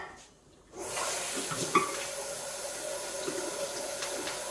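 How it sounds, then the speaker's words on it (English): Cold tap water runs over drained noodles in a kitchen sink, starting after a short quiet gap and then pouring steadily and close by. "drain our noodles and refresh in a little bit of cold water"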